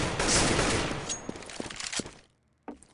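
AK rifle fire in an online competitive shooter match, a rapid dense burst of shots followed by a few sharper separate cracks, then a short quiet gap and one more distant report.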